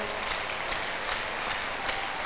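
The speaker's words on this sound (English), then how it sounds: "Can we clap for Jesus?" Congregation at an outdoor healing crusade clapping for Jesus, a dense, steady wash of many hands with faint voices mixed in, loud and continuous throughout.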